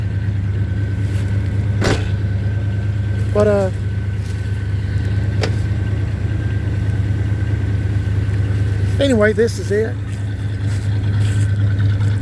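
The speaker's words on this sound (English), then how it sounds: "Pretty good running old truck." A 1978 Chevy C10 pickup idles after a cold start, its engine holding a steady low rumble throughout while someone talks over it, with a few brief higher squeaks and clicks along the way.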